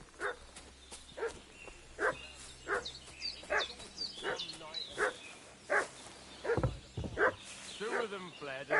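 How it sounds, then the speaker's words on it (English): Dog barking in the medieval video game Kingdom Come: Deliverance II: repeated sharp yips and barks in a steady rhythm over several seconds, mid-distance, mixed with ambient game sound and birds. "What's that dog making such a fuss about?"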